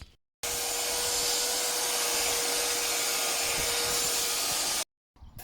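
A small cement mixer churns a mix of building sand, sharp sand and cement for a concrete shed base, giving a steady, loud mechanical drone with a constant hum that starts abruptly and cuts off just as suddenly.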